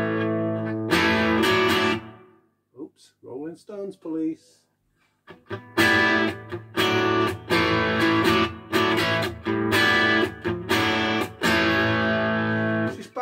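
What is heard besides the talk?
Telecaster bridge pickup through Victory V44 Plexi amp with reverb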